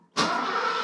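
A Mercedes R107 engine, left unstarted for five months, catches abruptly after a brief quiet crank and settles straight into a loud, steady run close by.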